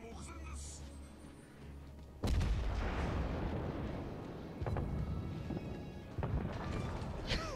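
Main guns of a Yamato battleship firing in a naval video game, heard as a sudden heavy boom followed by rumbling blasts and two more sharp reports. Voices talk over the firing.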